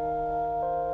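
Default Omnisphere preset called noise tines, a sustained synth tone holding steady harmonic layers with a slight shift partway through, playing alone for about a second.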